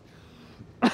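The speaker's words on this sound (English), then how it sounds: "Yeah, I'm coughing." One sharp cough close to the microphone inside a -70 degree industrial freezer, a brief harsh burst near the end after a stretch of low steady hum.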